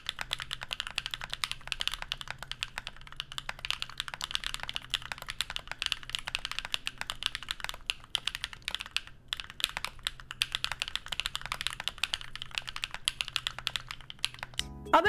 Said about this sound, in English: One downside about this board, the keycaps are not only ugly, but they sound bad and they feel cheap.